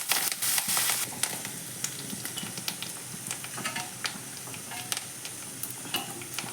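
Dry red chillies and curry leaves sizzle in hot oil with mustard seeds for a Kannada-style kattina saaru, a steady close crackling hiss with sharp spitting pops, louder at first, then settling into quieter frying.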